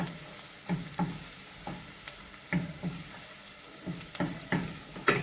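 Pepper paste being stirred in a frying pan for a Turkish black-eyed pea dish, a low sizzle broken by repeated scraping strokes of the spoon at an irregular pace, close and fairly quiet.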